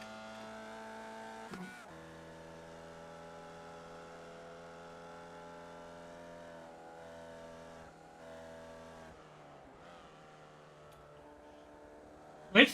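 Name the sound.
race car engine in video game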